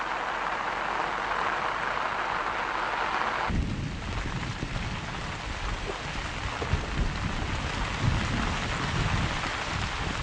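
Steady rain falls on bare soil in a plant documentary setting, a dense continuous patter that grows louder and heavier partway through, with low rumbling beneath and no voices.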